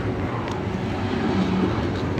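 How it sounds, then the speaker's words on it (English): A BNSF freight train rolls slowly past in a steady, continuous low rumble with a faint tonal whine, loud and close throughout, no voices. "this train is very quiet now"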